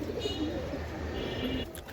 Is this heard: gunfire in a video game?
no